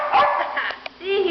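A house dog in an apartment gives a quick bark or yip close by, with a person talking around it in a very short moment.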